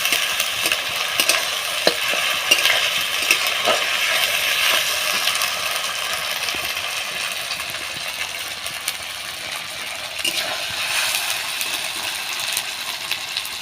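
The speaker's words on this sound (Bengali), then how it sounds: "আমি এই আদা রসুনের দিয়েই মাংসটা ভাজা ভাজা করে নেব" Chicken kosha pieces frying with ginger and garlic in a pan give a steady, bright sizzle, with frequent light scraping and clinking from stirring throughout.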